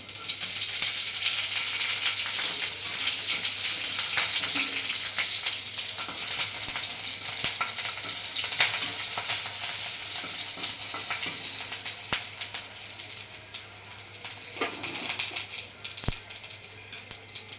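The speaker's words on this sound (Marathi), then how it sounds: "मस्त मोहरीला कड आला आपण आता हिरवी मिरची टाकू" Green chillies tossed into crackling mustard seeds in hot oil, giving a steady loud sizzle and spatter that runs throughout with a few sharper pops, close up and without speech.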